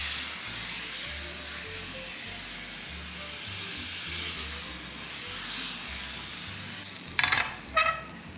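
Noodles sizzle and fry in an overheated pan, a steady close hiss running throughout, with two brief louder bursts of spitting near the end.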